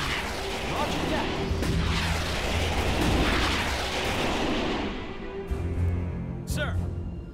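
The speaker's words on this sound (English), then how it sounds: "Rockets, we're up. Get those launchers moving." Rocket launchers fire in the Starship Troopers: Terran Command video game, a loud, dense roar of rolling blasts and booms that fills the scene and trails off near the end, with voices partly audible beneath.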